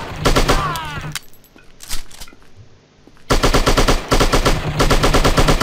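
Rapid automatic gunfire bursts from the shooting video game Striker, loud and close. A lull with scattered single shots and effects breaks the bursts before sustained machine-gun fire resumes.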